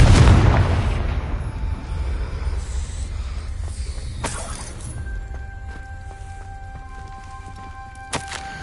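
A Confringo spell detonates in Hogwarts Legacy with a loud, close blast at the start, then a long rumbling decay that fades over several seconds, a few sharp crackles and a faint ringing tone trailing off, with no talk over it.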